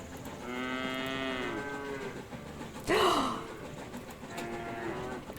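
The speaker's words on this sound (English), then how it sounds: "Oh, here they are. The moo-moos." Cattle moo in the farming video game Station To Station, two long drawn-out bellows with a sharp breathy burst between them, clear and fairly close over a soft background hum.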